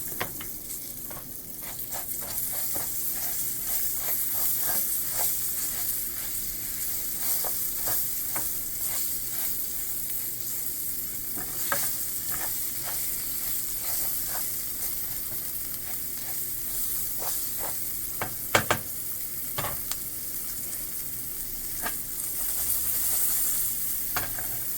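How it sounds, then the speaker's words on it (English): Onions sweat in a hot pan for Mexican rice, a steady close sizzle of frying with frequent scrapes and clicks of stirring, no talk. "It's time to add in the onions so we can sweat them down and get them a little tender."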